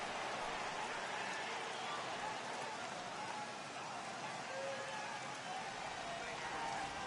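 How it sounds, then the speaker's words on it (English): Heavy rain pours on a baseball stadium in MLB The Show 18, a steady, dense hiss throughout that sits under a commentator's voice. "This has got to be the hardest rain we've seen all afternoon"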